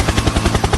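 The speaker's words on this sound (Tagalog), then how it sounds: "Helicopter!" Helicopter rotor chopping, loud and close, a fast steady pulse of about ten beats per second filling the whole short moment with no voices.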